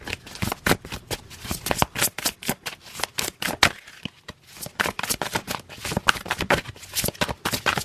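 Tarot cards being shuffled before a single card is drawn, a dense, continuous riffle of papery flicks and slaps at close range, briefly easing midway before resuming just as busily, with no voice over it.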